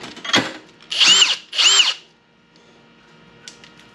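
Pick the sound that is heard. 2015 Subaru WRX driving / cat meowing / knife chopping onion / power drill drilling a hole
power drill drilling a hole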